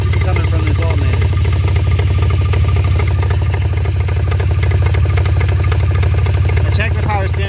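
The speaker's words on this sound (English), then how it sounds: "It seems to be coming from this alternator." A BMW E46 engine runs with a knocking fault traced to its alternator. It gives a loud, steady mechanical drone with a fast, rhythmic ticking texture, while a voice talks over it.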